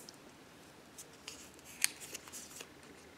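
Scissors cutting out clear label paper stickers, a quiet series of soft irregular snips and rustles close by, with one sharper click in the middle.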